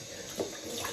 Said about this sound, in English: I'm just putting my face in the water.